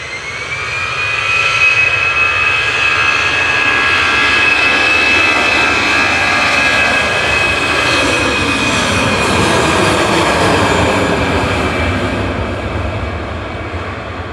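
A Lufthansa Airbus A320 Classic jet roars steadily as it departs Manchester Airport. The loud engine noise swells and stays broad and sustained for the whole stretch, with a thin whine riding on top and no voices.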